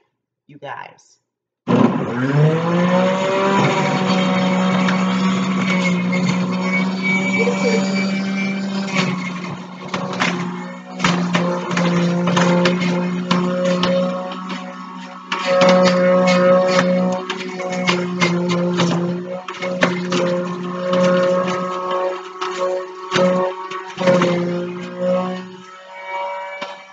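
A juicer grinds celery into juice with a loud, steady motor whine and roar that pauses and resumes as stalks are fed in, with a voice speaking briefly over it.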